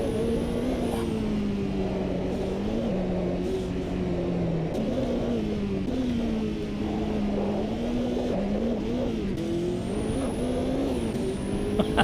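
A race car engine in Automobilista 2, a racing video game, holds full throttle in a steady, loud, sustained drone whose pitch rises and dips slightly with gear and speed, with no speech.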